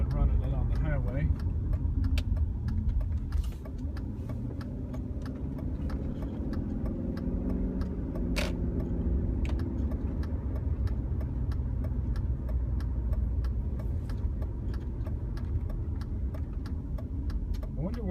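A BMW 740 E38 drives off the highway, its engine a steady low hum with road rumble heard from inside the cabin, plus faint ticking and someone talking over it.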